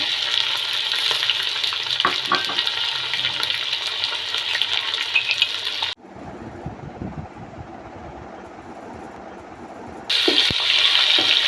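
Chopped tomatoes fry loudly with onion, garlic and ginger in a pan for matar pulao, a continuous close sizzle that drops to a low bubbling hiss midway, then flares back to full sizzle.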